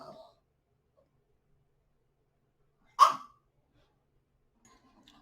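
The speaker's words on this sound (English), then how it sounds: "my dog was barking at me" A pet dog gives a single short bark, faint and somewhat distant, in an otherwise quiet room, with a brief voice fragment at the start.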